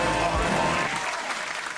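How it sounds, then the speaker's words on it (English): A brief burst of dense crowd applause plays on a gaming talk show, loud at first and thinning out within two seconds. "Round of applause."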